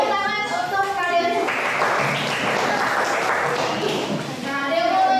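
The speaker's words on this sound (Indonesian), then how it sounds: "tepuk tangan untuk kalian" A school class applauds after student presentations on conventional biotechnology, with a burst of clapping in the middle while children's voices are heard before and after it.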